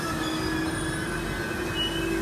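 The Asarwa Jaipur Superfast Express arrives at a station with a steady loud rumble and a high thin wheel squeal, heard close and continuous with no talking.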